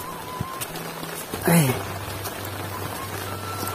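Rain falls steadily in a Sundanese village, a soft continuous hiss of drops close by, with a low hum and a brief louder swooping sound in the middle.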